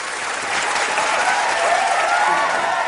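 Studio audience applause for the contestants on a comedy talk show, a steady, loud wash of clapping with some crowd noise that swells slightly and holds throughout.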